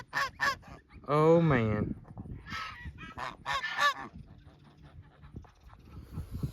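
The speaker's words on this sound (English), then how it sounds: "5 little goslings now." Baby goslings honk and peep in quick bursts close by, mixed with a man's brief spoken remark and some nearby panting and shuffling.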